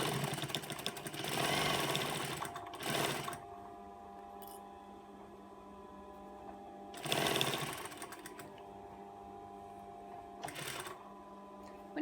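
A sewing machine runs in two longer bursts of steady, buzzing stitching along a fabric face mask seam, with a short third run near the end and quiet pauses between, close and fairly loud.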